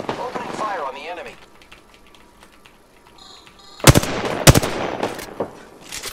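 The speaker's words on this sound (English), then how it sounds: "Opening fire on the enemy" Bursts of video game gunfire, sharp loud volleys of rapid shots after a stretch of quieter ambience, with a voice talking briefly at the start.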